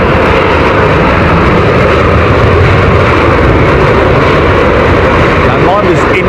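A steady, loud roar from a Boeing 777 airliner with GE engines arriving at Heathrow, continuous broadband rumble, with a voice talking over it.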